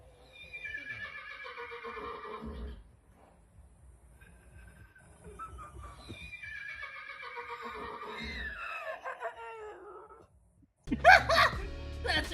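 A horse neighs twice in long, loud whinnies separated by a pause, followed by a burst of louder noise at the end.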